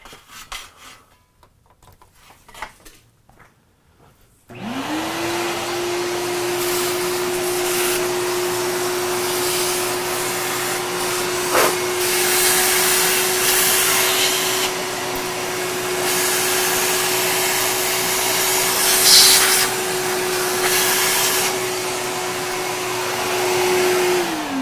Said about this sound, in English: I'm gonna take the vacuum.